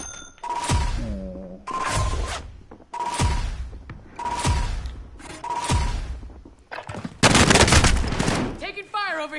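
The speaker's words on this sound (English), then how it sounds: "Taking fire over here." Gunfire in a PS4 shooter game: five loud, close bursts of rapid automatic shots in a regular rhythm, followed by a heavier, denser volley, with players' voices talking in between.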